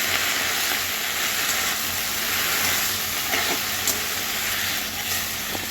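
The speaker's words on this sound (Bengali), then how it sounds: "শাকগুলো দিয়ে দেবো এগুলো হলো নোটে শাক বলে নেড়ে দিব ভালো করে" Note shak greens stirred in a hot pan of oil with black cumin, garlic and green chilli, giving a steady broadband hiss and sizzle throughout, with faint scraping stirs and no voices.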